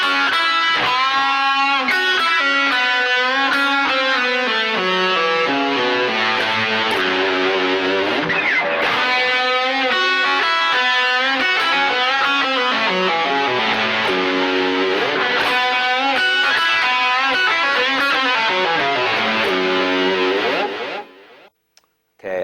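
Distorted electric guitar plays a blues scale lick slowly, a continuous run of bending, gliding notes with heavy effects, loud and alone until it stops abruptly near the end.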